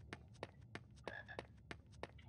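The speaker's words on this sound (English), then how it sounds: "But that means I can grab the frog" A frog in the Harry Potter and the Philosopher's Stone PC game makes a run of short, sharp croaks in quick, uneven succession, faint and clipped, with game sounds behind it.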